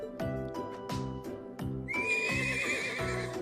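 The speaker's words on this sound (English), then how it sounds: "Even the horse joins into the conversation." A horse in the RPG Trails of Cold Steel lets out a long, shrill whinny with a rising whistle-like tone, close and loud over a rhythmic pattern of hoof clops.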